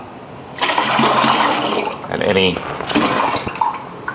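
Water from a gallon jug sloshes and rinses seasonings out of a pot into a brine bucket for curing country ham, a loud splashing pour with brief gurgles and a pause, while someone speaks briefly.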